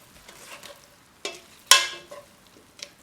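A spoon scraping and clinking in a pot of lentil soup, a few soft stirring strokes with two sharper knocks, close and fairly quiet.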